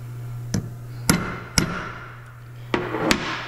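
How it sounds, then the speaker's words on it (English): Five sharp metallic hammer blows on a pointed punch set against nut threads while assembling a final drive motor gearbox, spaced irregularly and close, over a steady low machine hum. "We're basically taking a punch with a point on it. We're putting it right up against the nut threads there"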